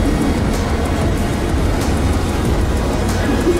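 Steady, loud rumble of an airport train in motion, heard from inside, a constant low roar with rattling throughout and no voices standing out.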